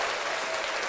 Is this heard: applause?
yes